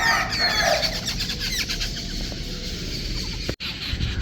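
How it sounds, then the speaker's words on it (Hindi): Birds chirp and call around a village on a morning, with clear high twittering at the start that fades under a steady outdoor background, broken by one brief sharp knock. "परिंदे चहचहा रहे हैं, यानी कि अल्लाह पाक का जिक्र कर रहे हैं"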